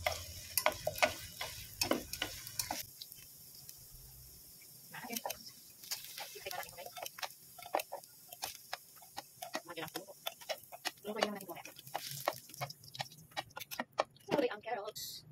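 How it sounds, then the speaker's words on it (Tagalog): Potatoes frying in oil for chicken curry, a close crackling sizzle with irregular popping ticks, heard under intermittent speech. "At iprito natin ang ating patatas."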